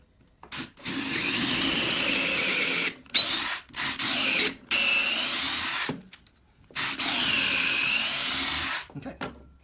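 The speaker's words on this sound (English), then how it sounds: "So I'm going to drill those holes now." A power drill fitted with a 3/8 inch bit bores holes for carriage bolts in several loud, sustained whining bursts, each separated by short pauses.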